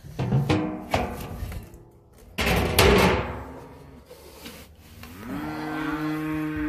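Cows on a farm bellow in several loud, drawn-out moos close to the microphone, separated by thumps and shuffling sounds.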